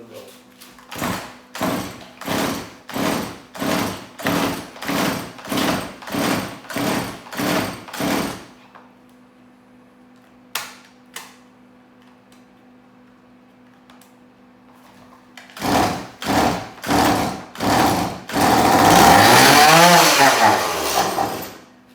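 A Stihl chainsaw is cranked over and over in rapid bursts, pauses, is cranked again, then catches and runs in a loud, close, raspy roar that rises and falls for a few seconds.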